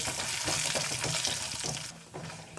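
Dry coconut pieces and poppy seeds fry in a pan with a close, steady sizzle and faint stirring. The hiss eases near the end.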